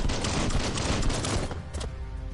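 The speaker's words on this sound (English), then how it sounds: "Shoot those explosives." Rapid bursts of gunfire and explosive blasts erupt in the combat of the video game Biomutant, loud and dense for most of the moment before tapering into a brief ringing tail.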